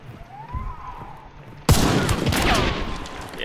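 A single loud gunshot in a video game, fired through a building wall, bursts in sharply after quieter low rumbling and leaves a sustained ringing, noisy tail behind it.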